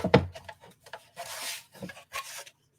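Small 6-inch paper cutter trimming paper for a junk journal, heard as several short rasping slices and scrapes with brief pauses between them, close and fairly quiet with no voices.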